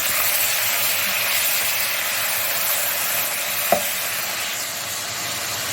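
Ginger garlic paste sizzles steadily in a pan of browned onions for a bhurta, a continuous close frying hiss with one brief clink partway through.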